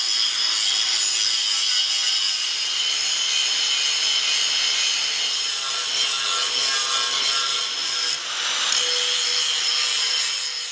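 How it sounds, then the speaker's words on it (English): An angle grinder works a 1976 Ford crew cab 4x4 Super Duty steel truck frame down to bare metal, a loud continuous metallic grinding with no pauses and one brief dip in intensity. "this was kind of cut at an angle, so that needs to be ground back all the way along here"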